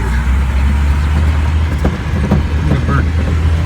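A Jeep drives onto a dirt pile with a steady, rumbling engine close by, low and continuous throughout, while occasional faint knocks and rattles sound over it.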